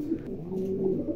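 A foreign-bloodline racer pigeon coos softly, a single low rolling call held close and alone with no talking.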